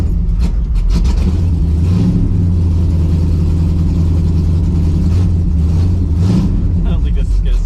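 A 1973 AMC Javelin AMX engine with no choke, cold, runs loudly and close throughout, a steady rough rumble with revving surges and uneven idle.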